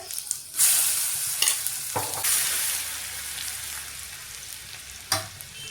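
Mustard seeds, cumin, asafoetida and turmeric sizzle in hot oil in a pan for eggplant bharta, a loud close crackle broken by sharp spatters and clinks of stirring.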